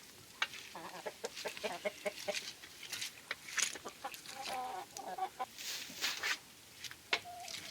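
Chickens cluck and squawk in scattered bursts nearby, a rooster and hens calling irregularly over a quiet background.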